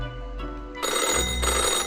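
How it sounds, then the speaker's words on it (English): A loud, ear-piercing metallic telephone bell rings continuously in a video game, a harsh clattering ring that swells partway through and carries on alone with no talk. "the phone rings. An ear-piercing metallic clatter."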